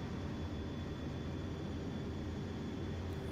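A Navy jet on an aircraft carrier deck heads toward the catapult shuttle, its engine making a steady, loud, broadband roar that never lets up, with no voices heard.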